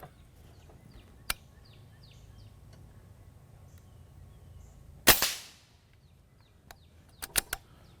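An air rifle charged to 3,000 psi fires a single sharp, loud crack with a quick fading tail, set among a few faint mechanical clicks and ticks in a quiet setting.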